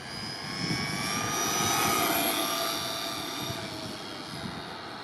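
A JLB Racing Cheetah Extreme RC car with a 120-amp ESC on a 3S battery whines at full throttle, a steady high-pitched electric motor tone that swells and fades as it passes, with no talk.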